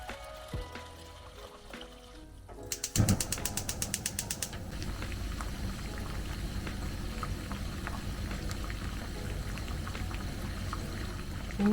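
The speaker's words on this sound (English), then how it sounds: "I'm going to reboil it." Red beans boil in a pot of water. A quick burst of ratcheting clicks comes first, then a steady, bubbling simmer continues close by without any talking.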